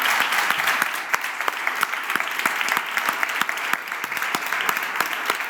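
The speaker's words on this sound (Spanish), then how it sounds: "Bueno, pues un aplauso." Applause from a seated audience at a Spanish-language panel discussion: sustained, moderately distant clapping with sharp individual claps standing out in an uneven rhythm throughout.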